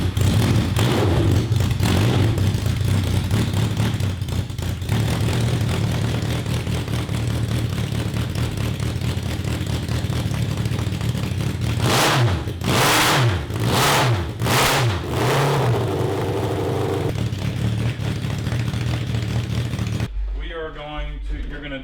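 A 750cc cross kart engine cranks, fires up and revs hard, loud and continuous throughout, with repeated sharp throttle blips rising and falling, and voices talking over the noise.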